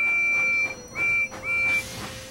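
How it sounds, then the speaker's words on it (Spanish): A cartoon steam engine gives three short, clear whistle toots in quick succession, each a steady tone, with soft puffing in between and fading after the last blast. "Percy zumbó y silbó con un resoplido y un silbido."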